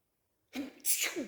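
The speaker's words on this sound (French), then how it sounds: "Voilà, j'ai éternué." A single human sneeze bursts out after half a second of silence, close and sharp, with a short breathy tail.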